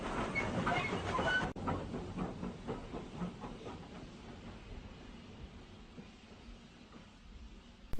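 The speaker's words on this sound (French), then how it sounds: "le train arrive en gare d'Oran" A train pulls into Oran station in an animated film, a steady rail hiss and rolling rumble with faint rhythmic clatter, louder at first and then settling into a quieter continuous wash as it slows.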